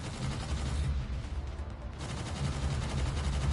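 Rapid sustained cannon fire at enemy ships in the VR space shooter EVE: Gunjack, a dense continuous barrage of blasts running steadily throughout with a brief dip midway.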